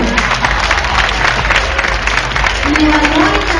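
A live audience at a contest show applauds in a steady, moderately loud wash of clapping, with voices mixed in beneath it.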